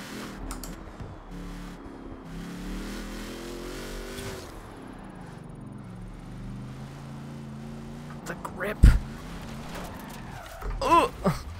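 Engine of the Apollo car in Forza Horizon 4, played on a steering wheel, revving and rising in pitch at close range, with sharper bursts and clicks near the end.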